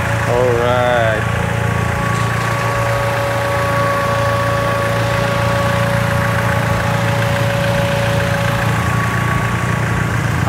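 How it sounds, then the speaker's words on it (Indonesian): The original 1NZ engine of a turbocharged Toyota Vios idles with a steady, even hum close by, while a voice speaks briefly near the start. "dia memang engine original Toyota Vios 1NZ. Saya bawa on turbo."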